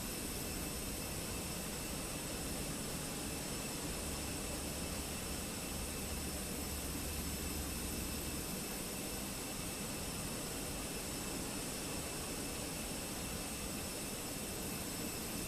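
Airbus jet engines spooling during pushback, a continuous loud roar with a high steady whine layered on top, unbroken throughout and free of speech.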